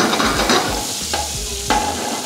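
Bacon fries in a pan with a little added fat, giving a continuous close sizzle broken by scraping stirs against the pan.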